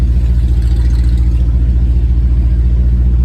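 A 1968 Lincoln Continental V8 fitted with Holley Sniper EFI idles at around 860 RPM, giving a steady, low, loud rumble with an even pulsing rhythm and no talk.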